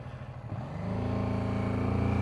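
A BMW F450 GS adventure motorcycle pulls away in second gear, its engine note rising from a low idle into a steady, loud, close drone over about two seconds.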